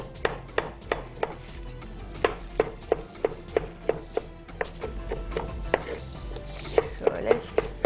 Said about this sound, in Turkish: Bir yandan da domatesler doğrandı.